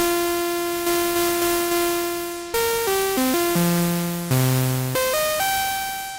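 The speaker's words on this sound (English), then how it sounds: "So what you're hearing is one sawtooth and noise." A buzzy Korg MS-20 sawtooth tone with a hissing noise layer, holding one pitch then stepping down through several notes and back up, steady and loud.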